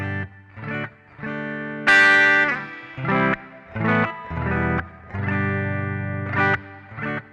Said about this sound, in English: So this is going to just sound like a reverbed AC30.